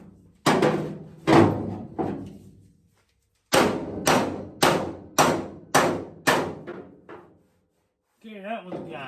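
Sharp metal hammer blows on the body panel of a 1972 VW Super Beetle, struck against a body spoon held behind it: a few ringing hits, a pause, then a steady series of loud, close, evenly spaced clangs, with brief talk at the end.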